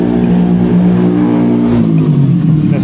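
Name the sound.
motorcycle engine revving nearby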